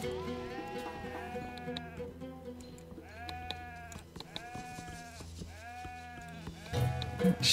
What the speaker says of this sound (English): Bring the sheep.